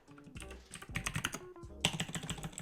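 Rapid typing on a computer keyboard while building a Python/Django project, with bursts of close, crisp key clicks separated by short pauses and no talking.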